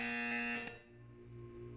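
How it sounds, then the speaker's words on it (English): A buzzer in the video game Portal 2 sounds once as a loud, steady electronic tone with strong harmonics, then drops off abruptly, leaving a quieter hum. "You will hear a buzzer."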